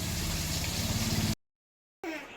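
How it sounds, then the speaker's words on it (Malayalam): Fish frying in a pan on a stove, a steady dense sizzle with low bubbling that cuts out abruptly to silence, then returns more faintly. "മീനിതാ അടുപ്പത്ത് മൊരിയണു."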